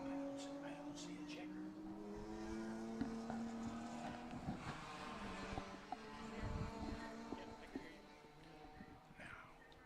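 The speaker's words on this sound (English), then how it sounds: "Here comes the car through the final combination of turns." A race car at the 2022 NASA Championships at WeatherTech Raceway Laguna Seca, taking the final combination of turns. Its engine note is faint and distant, rising and falling in pitch as it brakes and accelerates through the corners.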